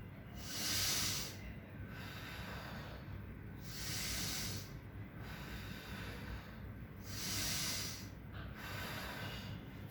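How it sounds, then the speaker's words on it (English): Deep diaphragmatic breathing, slow and close, with three long breath cycles of soft airy hiss over a steady low background hum; no talking. "I'm taking deep breath from the diaphragm"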